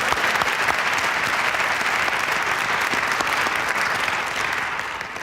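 Audience at a Joyce Carol Oates public reading applauds in a steady, full roomful of clapping that stays even and sustained, easing off slightly near the end.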